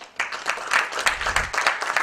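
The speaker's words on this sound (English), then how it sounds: "With a huge round of applause, please welcome Mr. V. Suresh, Director, HIRCO Project Companies." Brief applause from a keynote-address audience welcoming a company director, a moderate patter of clapping heard at some distance, rising and falling over about two seconds.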